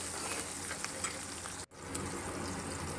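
Chopped green chillies and garlic sizzle and crackle steadily in hot oil for a home-cooked Maharashtrian rice-flour ukad, a dense, continuous frying hiss close up with a brief dip midway.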